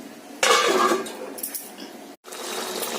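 A lid drops onto a cooking pot of simmering katla fish curry with potato and pointed gourd: one sharp metallic clatter, then a fading rattle and a short hiss close by.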